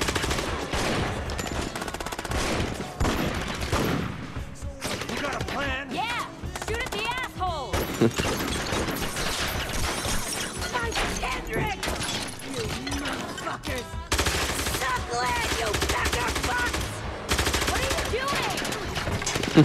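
Gunfire in the video game Gangstar Vegas comes in rapid bursts and sustained automatic volleys throughout, mixed with in-game effects and a person talking over the action.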